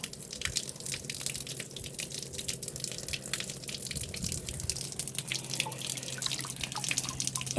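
Water runs steadily through a gold sluice while ore is being processed, giving a close, continuous trickle and wash with scattered drips and splashes and no talking.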